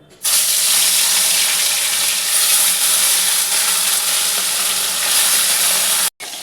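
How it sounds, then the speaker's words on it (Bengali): Bhetki fish frying in hot oil in a wok: a loud, continuous sizzle starts suddenly and roars steadily for several seconds, then cuts out briefly before resuming. "আমি প্রথমে মাছটা এবার ঢেলে দিচ্ছি আমার কড়ায় তেল গরম হয়ে গেছে"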